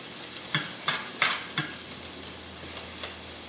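Onions frying over high heat in a pan for a portobello stuffing, with a steady nearby sizzle and a quick burst of four spatula scrapes, then one more scrape later.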